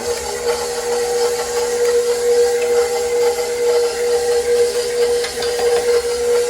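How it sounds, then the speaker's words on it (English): A mixer creams butter and sugar for chocolate chip cookies, running as a steady, fairly loud whir with a constant motor tone and no pauses. "So start off by creaming the butter, which means just making the butter soft."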